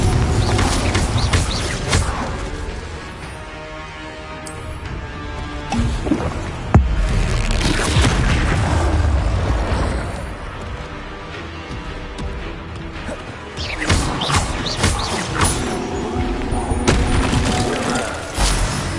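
Confringo blasting spells in Hogwarts Legacy, heard as loud, repeated explosive bursts and crashes over a dense, rumbling game soundscape with sharp impacts scattered throughout.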